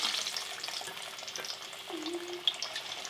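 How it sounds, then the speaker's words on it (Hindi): Vegetable tikki pakoda fritters frying in hot oil, giving a steady soft sizzle with light crackles throughout. "मैं वो फ्राई करती हूँ"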